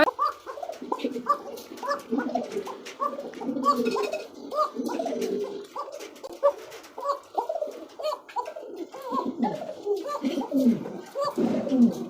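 Pigeons sold as breeding stock coo steadily in soft, overlapping throaty phrases, several birds close by and calling throughout with no pauses.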